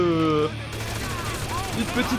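Rapid gunfire from the video game GTA 5 crackles in dense bursts beneath game music and effects, continuous and fairly loud throughout.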